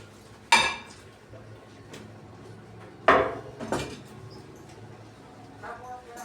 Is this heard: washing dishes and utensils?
yes